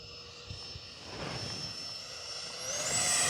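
An E-flite Viper 64mm electric ducted-fan RC jet climbs at full throttle, its whine rising steadily in pitch and growing louder over a few seconds.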